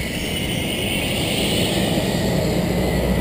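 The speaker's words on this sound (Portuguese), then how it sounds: "Olha o avião que lançou a gente aí, ó." Steady propeller drone of the fixed-wing aircraft that dropped skydivers, heard outdoors at a skydiving site as a continuous, fairly loud hum with broad wind-like noise, no voices present.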